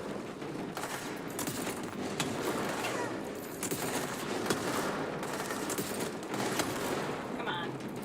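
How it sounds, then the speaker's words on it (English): Rapid bursts of gunfire in the game Control, crackling repeatedly through a continuous busy mix of in-game effects, with someone talking over parts of it. "Somebody's shooting at me."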